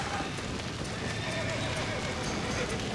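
Horse hooves clip-clop at a gallop while the horse neighs in Red Dead Redemption, dense and continuous amid game ambience.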